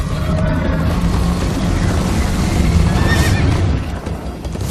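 Horse neighs over galloping hoofbeats in a chase scene from the PS4 video game Minecraft: Story Mode, loud and continuous, with a whinny rising near the end.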